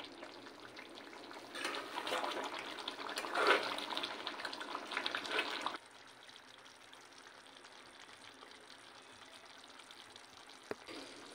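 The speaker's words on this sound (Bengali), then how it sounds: "এর ঝোলটা একটু বেশি আছে, সেই জন্য আমি আরও 10 মিনিটের জন্য হাই ফ্লেমে ফুটিয়ে নেব" Chicken curry gravy bubbling on a high gas flame, a dense sizzling, hissing boil that is loud for the first half and then drops to a quieter steady simmer.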